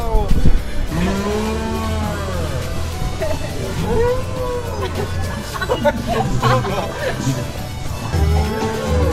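Cow mooing at a theme park farm attraction, a few long low moos rising and falling over steady crowd and ride noise, with people talking and shouting nearby.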